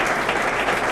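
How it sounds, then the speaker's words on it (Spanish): A brief burst of dense applause at the Toribio Echevarria award ceremony, a loud, even roar of many hands with no voices on top. "un fuerte aplauso para Tomaker"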